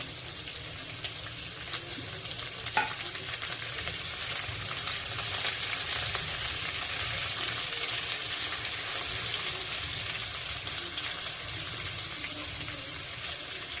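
Two medium onions, sliced lengthwise, fry with cumin in hot oil, a steady close sizzle that grows slightly fuller midway, with a few faint clinks and no talk.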